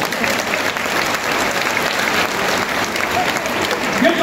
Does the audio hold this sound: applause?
yes